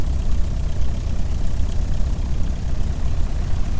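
Simulated aircraft engine in Flight Simulator X running steadily at low throttle, a continuous low droning hum that holds level without a clear rise, heard alone and close.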